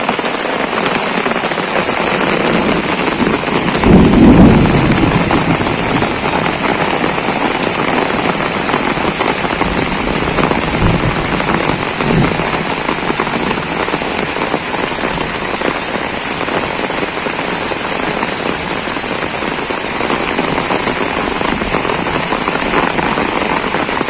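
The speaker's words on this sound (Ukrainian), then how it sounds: "дощ ще сильніше припустив" Heavy summer rain pours steadily onto a garden in Kyiv Oblast, a dense, even hiss of drops hitting leaves and surfaces that holds loud and constant throughout, with a brief heavier splash burst early on.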